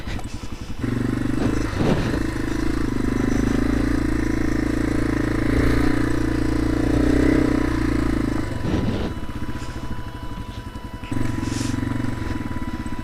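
Motorcycle riding along a snowy trail in early March, its engine droning steadily up close with clattering bumps and a few dips in revs.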